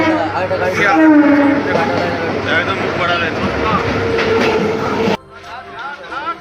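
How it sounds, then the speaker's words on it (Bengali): Rumbling interior of a moving Howrah–Katwa local train with clattering wheels and a murmur of passengers talking, dropping abruptly quieter near the end. "আমরা দেখুন লোকাল ট্রেনের মধ্যে দাঁড়িয়ে আপনাদের কাছে"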